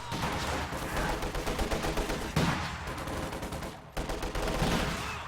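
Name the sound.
machine gun and anti-tank rifle fire in Company of Heroes 2 video game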